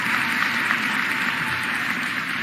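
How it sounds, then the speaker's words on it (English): Steady, dense applause fills a hall at a city State of the City address, a continuous wash of clapping from a large audience. "Please give him a round of applause."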